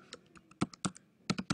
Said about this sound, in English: in the address bar, you would type